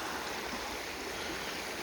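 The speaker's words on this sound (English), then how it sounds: "this creek being as calm, as quiet as it is right now" A calm, quiet creek flowing through a canyon, a steady broadband wash of running water that stays even and unbroken throughout, with no voices over it.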